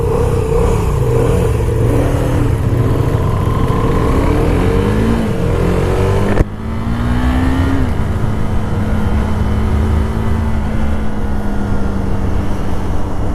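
Single-cylinder KTM Duke 390 motorcycle revving hard toward the red line, engine pitch climbing through the gears with clear upshifts, loud and close with wind rush throughout, a sudden cut midway and then a steady high-speed drone.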